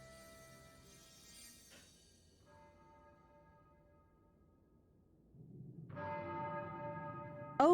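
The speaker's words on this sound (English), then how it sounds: "Oh boy, the bells." Church bells ring in Tales of Arise, sustained tolling tones with long ringing decay, faint at first, a second strike hanging in the air, then a louder, fuller peal swelling near the end.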